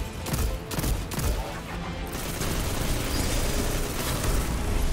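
A huge Nova Bomb explosion from Destiny 2 fills the scene with a loud, rumbling boom. Crackling bursts of blasts and gunfire roll through, and the dense roar keeps going for several seconds.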